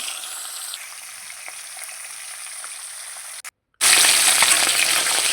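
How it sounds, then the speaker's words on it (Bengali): Magur catfish pieces sizzle in hot oil in a kadai, a steady frying hiss that drops out briefly and then returns much louder as more fish go into the pan, with no talking. "এবার কড়াইয়ে একে একে দিয়ে দিচ্ছি মাছগুলোকে খুব সুন্দরভাবে লাল লাল করে ভেজে নিতে হবে"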